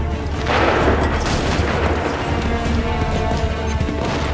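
Musket volley firing in Assassin's Creed 3, a heavy ragged burst of many near-simultaneous shots followed by rolling, crackling battlefield noise that stays loud for several seconds, with faint voices underneath.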